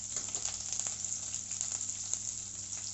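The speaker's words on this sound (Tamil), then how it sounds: "உளுந்து நல்லா சிவந்ததுக்கப்புறம் வெங்காயம் போட்டுக்கிறேன்" Small shallots dropped into hot oil after urad dal has browned, hissing in a steady, even sizzle throughout with faint crackles, close and fairly quiet.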